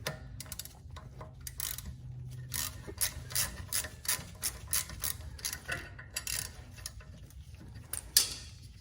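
Ratchet wrench clicking as it turns a 6mm Allen socket on a BMW E36 M3 rear brake bolt, a run of sharp close ticks in bursts with brief pauses, louder near the end, no talking.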